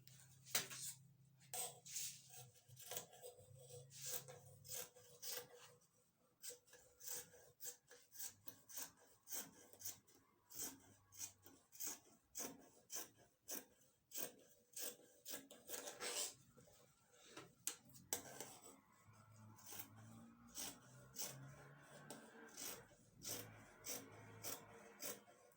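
Scissors cut out shirt fabric for a man's shirt in a rhythmic series of soft, close snips and rasping slides across the cloth, fairly faint, with no talk.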